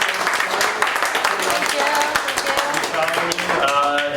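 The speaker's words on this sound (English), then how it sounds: "let's give Melissa a round of applause for coming" At a weekly startup meetup, a crowd claps for a guest speaker. The applause rattles on briskly under overlapping voices and murmured talk throughout, fairly close and loud.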